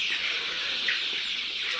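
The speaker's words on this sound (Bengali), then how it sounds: "এই মুরগিগুলো রোস্টের জন্য রেডি হয়ে যাবে" Many Sonali chickens chattering and clucking together in a continuous flock murmur, with a brief louder chirp partway through.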